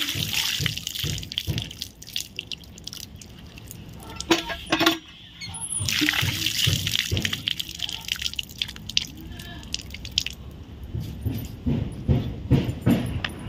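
Pots, glasses and bowls are scrubbed and rinsed at a kitchen sink, with running water, splashes and irregular clinks and knocks of dishware close by, rising and falling in bursts.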